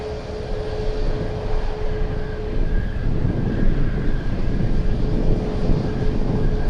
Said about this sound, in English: I think we have a Grand Caravan coming in.